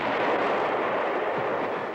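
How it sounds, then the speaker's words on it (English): Cartoon cannon fire in a battle scene among rocks, a dense continuous roar of booming blasts that runs loud and unbroken throughout, with no clear gaps between shots. "Cannon to the right of me, cannon to the left of me, cannon in front of me."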